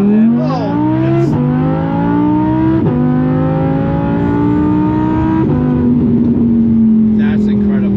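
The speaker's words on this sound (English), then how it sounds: "Colton's gonna launch this car" Supercharged Ford Mustang GT fitted with an ESS G3R supercharger launching hard, its engine roaring loud and close as revs climb through several gear shifts with sharp breaks between them.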